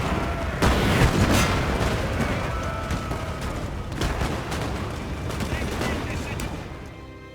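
Infantry musket volleys in Napoleon: Total War crackle in a continuous loud battle din, with sharp volley cracks rising out of the rumble at intervals and no pause in the firing.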